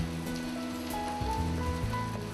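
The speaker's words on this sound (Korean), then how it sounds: "봄비가 내리는 5월의 어느 날" Spring rain falls on a May day, a steady close hiss that runs without a break. Soft sustained tones sit underneath it.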